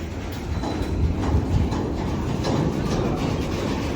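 A train in motion on a journey from Hyderabad to Ujjain gives a steady, close low rumble with faint rhythmic clacks and no talking over it.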